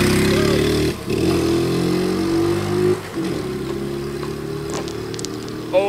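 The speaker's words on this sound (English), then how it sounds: "Let's do a drag race down Main Street." 1973 Honda ST90 Trail 90 racing down a main street, its small engine droning and rising in pitch through several gear changes, loud and close.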